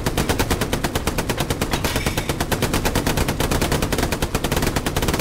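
Rapid, sustained machine-gun fire in the World War II shooter game Hell Let Loose, during a tank platoon fight; a loud, evenly spaced stream of shots that hammers on without pause across the whole stretch.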